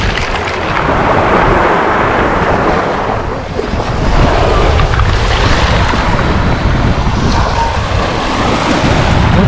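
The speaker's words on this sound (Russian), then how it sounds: "Ветерок, конечно, дует, и море классное." Surf rolls and crashes continuously on a Black Sea beach at Lazarevskoye, with heavy wind buffeting the microphone into a loud, dense roar throughout.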